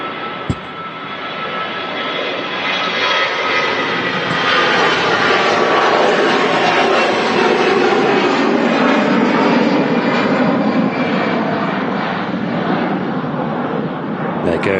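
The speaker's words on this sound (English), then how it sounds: "Goes the ex-Thomas Cook aircraft we were talking about earlier" An ex-Thomas Cook airliner departs Manchester Airport, its engines a loud, sustained roar that rises and holds steady for about fifteen seconds in the evening air.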